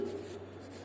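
Numbers being written during a Grade 4 mathematics lesson, a steady faint scratch of a pen or marker running for the whole moment with no talk over it.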